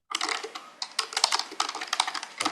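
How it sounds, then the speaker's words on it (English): Rapid, close keyboard typing in uneven bursts of crisp clicks with brief pauses between runs. "We can hear the typing."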